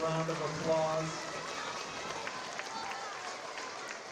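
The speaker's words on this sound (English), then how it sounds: "let's give all of our Cuptastic winners for this month another round of applause" School assembly audience giving the month's Cuptastic winners another round of applause: a dense, steady wash of clapping from a crowd of children, with a brief raised voice at the start.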